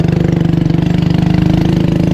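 A Motor Star motorcycle engine chugs steadily at low speed, a close, even putter with a regular pulsing rhythm as the bike turns onto a rural road, with no talking.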